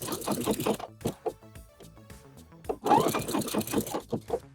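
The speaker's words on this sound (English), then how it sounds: "I'm going to sew up this little underarm area" A sewing machine stitches the small underarm seam of a bra bodice in short bursts of rapid rhythmic needle clatter, with brief pauses between runs, close and clear.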